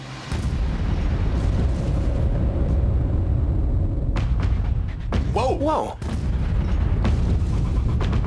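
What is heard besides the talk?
large explosion erupting in the sky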